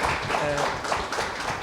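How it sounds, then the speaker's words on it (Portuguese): Dense audience applause fills a panel discussion hall for Nosferatu's centenary, continuous clapping with a voice briefly audible over it. "uma salva de palmas para a Bianca também"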